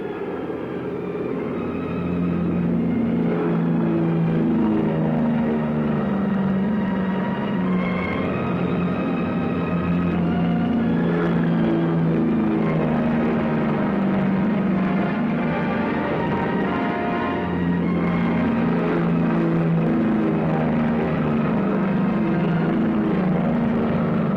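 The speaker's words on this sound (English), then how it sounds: "Take off. The old man leans full on his throttle." Several WW2 military aircraft piston engines roar at full throttle for takeoff, a loud steady drone with wavering harmonic tones that continues without a break, with no voices.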